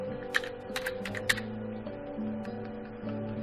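Keys tapped on a computer keyboard to enter a program name into a Windows search bar, a few sharp clicks spaced unevenly over a steady low hum, close and moderately quiet.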